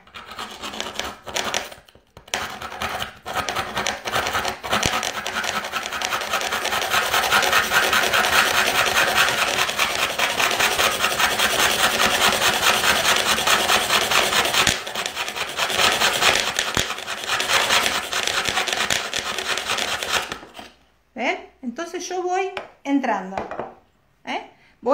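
Abrasive rubbing and rasping on a mosaic piece, a steady close grinding scrape that runs loud for about twenty seconds, then gives way to short broken scraping bursts.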